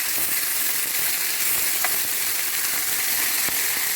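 A ribeye steak sizzles in a hot pan, a dense, steady hiss of frying with faint crackles and a few small pops, close and continuous with no talk.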